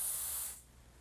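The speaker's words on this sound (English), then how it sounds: "sprayed downward while holding onto the beauty blender" Dior Airflash spray foundation hissing from its can onto a beauty blender, one steady close burst lasting about half a second, then cutting off to a quiet room.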